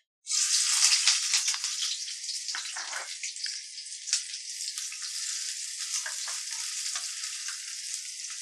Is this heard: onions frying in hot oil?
yes